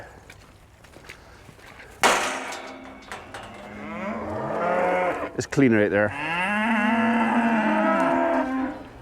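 Several loud, drawn-out cow moos overlapping one another, close by, with a brief spoken remark at the start and some shuffling underneath.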